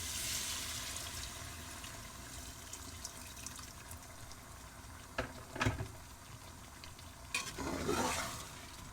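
Chicken and pumpkin curry cooking in a pot with green chilli and a splash of water, giving a soft steady sizzle with a few brief stirring scrapes and clatters near the end.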